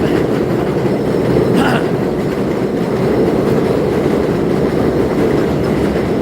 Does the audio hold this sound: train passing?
yes